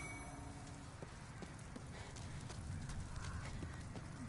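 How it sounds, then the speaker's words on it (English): Horse hooves clip-clop in Demon's Souls, a quick run of fairly faint hoof strikes over a dense, noisy game backdrop. "There goes a horse, man."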